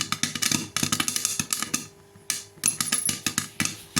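Rapid, dense popping bursts rattle inside a covered pot, near and loud, with a brief lull before the popping resumes at a steady clatter.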